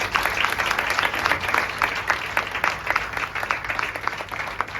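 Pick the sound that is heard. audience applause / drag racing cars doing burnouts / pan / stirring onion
audience applause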